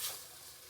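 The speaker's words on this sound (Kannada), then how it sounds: "ಶುಂಠಿ ಬೆಳ್ಳುಳ್ಳಿ ಪೇಸ್ಟ್ ಹಾಕೋಣ. ಸ್ವಲ್ಪ ಹಸಿ ವಾಸನೆ ಹೋಗೋವರೆಗೂ ಫ್ರೈ ಮಾಡ್ಕೊಂಡು" Ginger garlic paste fries in a pan, giving a brief, soft, steady hiss of sizzling oil with no other sounds.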